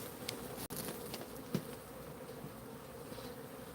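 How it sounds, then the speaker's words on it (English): Bees flying in and out of a remnant colony, a steady, close buzzing drone of many insects continuing throughout with brief individual passes and no talk. "We're going to see these remnant bees. We just stepped out of the way of their flight path"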